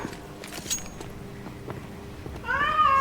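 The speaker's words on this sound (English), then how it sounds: "That cat is begging for its life, bro." A cat meows in a rising, drawn-out wail near the end, following several seconds of faint clatter and background noise during gameplay.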